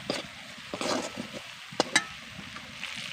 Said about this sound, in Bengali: এবার আমি মশলাকে কষিয়ে নেবো